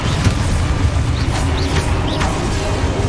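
A Confringo fire-blast spell from Hogwarts Legacy erupts as a loud, sustained booming rumble, dense and close, filling the whole moment with heavy low-end roar.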